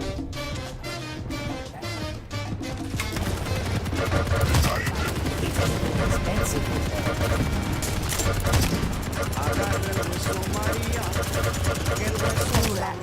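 Rapid, continuous machine gun fire in the arena shooter Quake Champions, loud and dense bursts running almost without pause, with a voice talking over parts of it.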